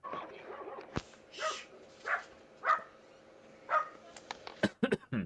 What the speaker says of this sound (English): Do I hear a puppy?